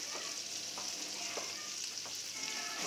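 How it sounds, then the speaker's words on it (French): An omelette mixture with testicles and parsley simmering and frying in a pan, a soft, steady sizzle with light stirring scrapes, close but quiet. "Voilà, ça mijote."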